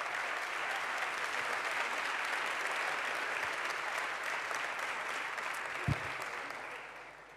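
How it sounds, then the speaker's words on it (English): Sustained applause from a conference audience at a South Summit 2015 startup talk, a broad steady wash of clapping that holds evenly for several seconds before easing slightly near the end, with one brief thump partway through. "Thanks for the applause."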